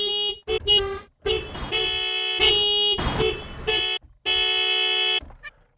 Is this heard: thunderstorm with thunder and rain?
no